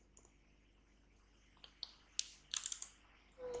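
Sparse keystrokes on a computer keyboard while code is typed, a few scattered clicks early then a quick cluster of taps later, close and quiet in a still room.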